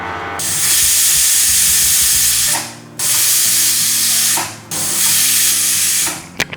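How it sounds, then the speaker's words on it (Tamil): A pressure cooker releasing loud, hissing whistles of steam while cooking snake gourd payasam, three long bursts separated by brief pauses, close and intense. "ஸோ 3 விசில் வந்தாச்சு. நான் குக்கரை ஆஃப் பண்ணிடுறேன்."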